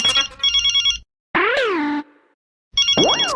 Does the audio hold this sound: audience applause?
no